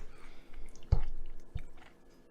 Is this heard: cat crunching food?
yes